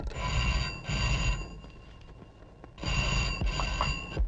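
A telephone rings in a police station, sounding two bursts of bright, bell-like trills separated by a short quiet gap. The ringing is near and clear.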